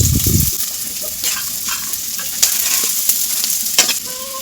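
Chopped onion and garlic sizzle steadily in hot oil for egg pulao, a loud, even fry with a short burst of stirring at the start and a few light scrapes and clinks of the utensil.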